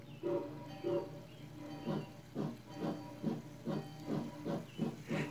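Rhythmic chuffing of a steam locomotive sound effect plays through a big loudspeaker on a model railroad, regular hissing puffs quickening slightly over a low steady hum.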